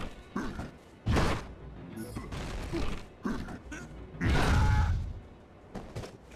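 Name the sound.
wall being knocked down in Majin and the Forsaken Kingdom video game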